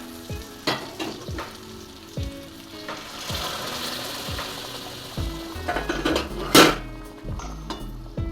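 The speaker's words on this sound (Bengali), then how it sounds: "সেই গরম জল আমি এবারে দিয়ে দেবো।" Crab curry bubbling and sizzling in a pan as hot water is poured in. Metallic scrapes and clinks against the pan sound near and clear, with a sharp louder burst of hissing partway through.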